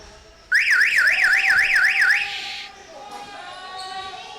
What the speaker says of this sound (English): Ignore that alarm that's right above my head and really loud.